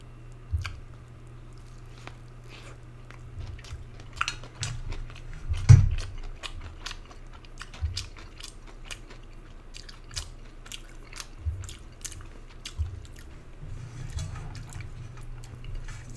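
Pepperoni cheeseburger being eaten close to the mic, with soft wet bites and chewing clicks in an irregular rhythm over a low steady hum, plus one louder crunchy bite partway through.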